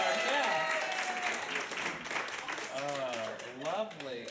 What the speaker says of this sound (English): applause for our guest